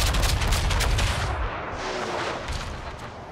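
Naval guns and artillery firing in a warship battle video game, heavy booming blasts that roll together into a dense, loud barrage with no talking.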